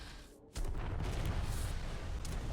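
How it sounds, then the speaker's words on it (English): Weapon blasts in the space video game Zarco Force, a dense continuous roar of booming explosions that kicks in loud after a brief quieter moment and rumbles on without pause. "they really explode with this one"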